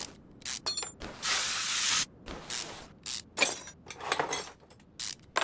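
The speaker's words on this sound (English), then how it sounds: "we got to keep putting some WD-40 on it" WD-40 sprayed onto stuck engine bolts of a barn-find Ford Bronco: short bursts of aerosol hiss, one longer than the rest, mixed with sharp metallic clinks and taps, close and without talk.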